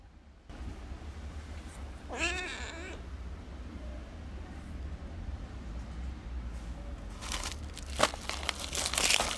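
A sick, feverish and dehydrated stray kitten gives one short, clear meow near the start, over steady low background noise, with some crinkling and rustling toward the end.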